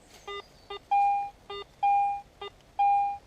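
A metal detector signal repeats three times while digging in Scotland: two short buzzy blips, then a longer clear tone, loud and close.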